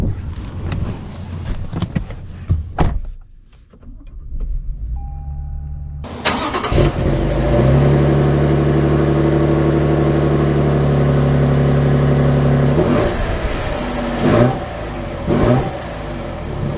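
A 2023 Toyota Tundra SR5 Premium pickup starts up after a few clicks and rustles near the mic. The engine catches with a loud crank and settles into a steady idle, then revs and fades slightly as it pulls away.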